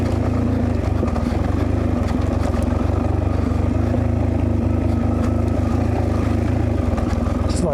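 A Suzuki DRZ 400E motorcycle engine braking down a steep mountain descent, a loud steady low drone with rushing wind that holds constant throughout.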